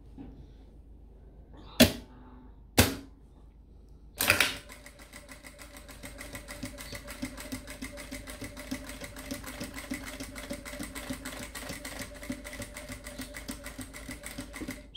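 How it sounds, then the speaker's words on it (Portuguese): A sewing machine stitches a fabric purse: after a few sharp clicks and knocks, a steady fast mechanical whirring with rapid rhythmic ticking runs continuously for about ten seconds, close and moderately loud. "Agora, eu vou passar costura dessa forma, começando aqui por baixo."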